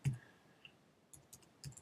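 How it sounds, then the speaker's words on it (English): Computer typing and mouse clicking at a doctor's workstation while entering discharge instructions: a sharp click, then a few scattered, soft keystrokes spaced irregularly, faint and close in a quiet room. "You can come to the top here and start to type"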